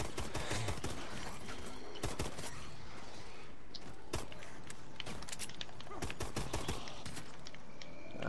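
Rapid bursts of gunfire from the zombies mode of Call of Duty: Advanced Warfare (Ascendance map), with sharp repeated shots clustering in volleys across the stretch, loud and continuous with dense game effects around them.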